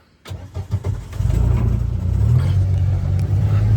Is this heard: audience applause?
no